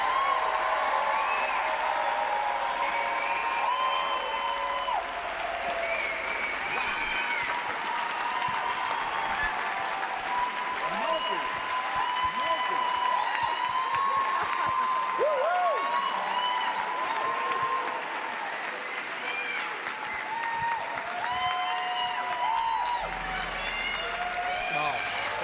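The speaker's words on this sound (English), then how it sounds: "A well-deserved round of applause" Audience applause and cheering for a musician, a long sustained roar of clapping with whoops and shouts, loud and steady throughout with crowd voices mixed in.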